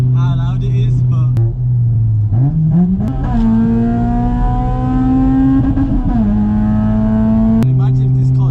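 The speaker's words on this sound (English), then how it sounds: "I think that this car is so loud." Straight-piped Honda Civic Type R engine, a loud raspy exhaust note that idles, climbs through a rising rev, holds a high drone, then drops back to a burbling idle, with talking over parts of it.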